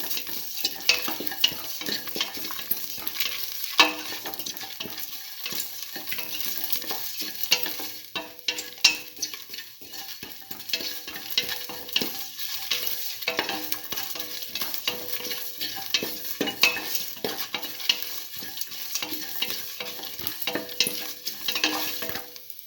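Garlic with salt and a spice mix stirred and fried in a pan for mint potato rice, a steady sizzle broken by frequent scraping, clinking stirs throughout, close and moderately loud with no talk.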